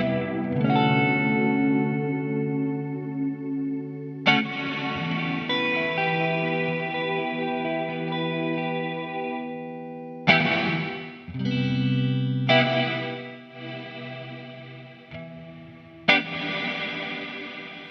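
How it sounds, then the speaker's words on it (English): Sustained synth or organ chords through an Erica Synths Nightverb reverb, drenched in dark, bassy reverb with muffled highs, changing chord every few seconds and ringing out between changes. "dampen the high frequencies and just make it a more bassier reverb"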